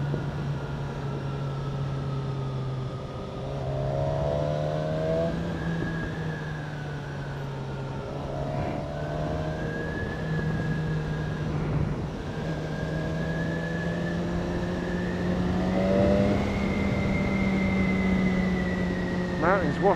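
BMW S1000XR motorcycle climbing Andorra mountain switchbacks, its engine a steady close drone that swells and falls as revs change through the corners, with wind rush over it throughout.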